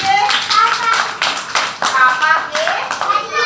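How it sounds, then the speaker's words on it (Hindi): Children clapping in a classroom, a lively burst of rapid, uneven hand claps from a group close by, with children's voices calling out over the clapping. "वेरी गुड, ताली बजाओ दादा के लिए।"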